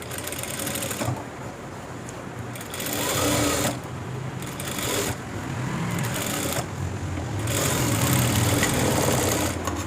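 A sewing machine stitching a school uniform coat, running in bursts with brief pauses between them, a close, steady mechanical whir.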